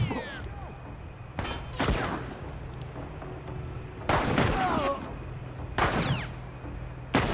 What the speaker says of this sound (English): after the AI enemies shoot 1 or 2 bullets